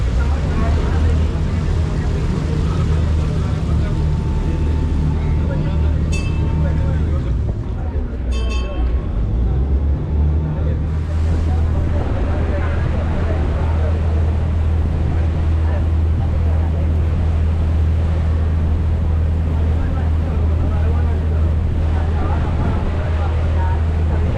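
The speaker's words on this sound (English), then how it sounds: "that was about a half-hour ferry ride" Steady low engine drone and water wash from a ferry in Alleppey, continuous and loud throughout, with a couple of faint clinks and some wind buffeting near the start.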